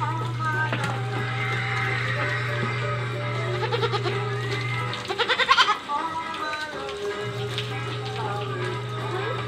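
A goat bleats in a short wavering cry while being soaped and washed, over steady background music and a low hum, with people talking nearby.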